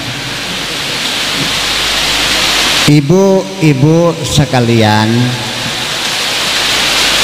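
Heavy rain pours as a dense, steady hiss throughout, and a man addresses an audience over it for the second half.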